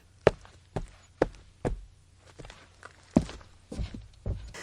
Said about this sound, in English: number 1, person walking on concrete